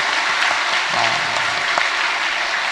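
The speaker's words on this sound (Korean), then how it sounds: "우리 유치부 어린이 전체를 위해서 축복의 박수" A church congregation claps to bless the kindergarten children, sustained, dense applause throughout with no voices standing out.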